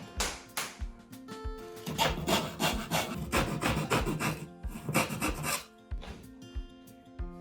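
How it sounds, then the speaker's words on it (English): Specialized screws are driven into plywood as temporary fixing during a system kitchen replacement, giving a run of loud, close mechanical whirring and gritty wood-rubbing bursts over about seven seconds. "We will temporarily fix the plywood with specialized screws."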